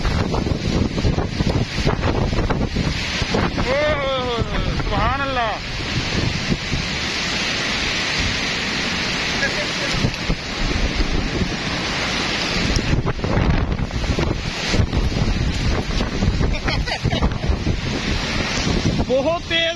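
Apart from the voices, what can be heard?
strong wind blowing through trees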